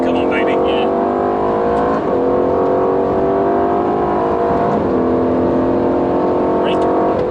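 A 2018 Aston Martin Vantage engine drones loud and steady on a race track, pitch climbing through the gears with brief dips at shifts, while a driver talks over the cabin noise.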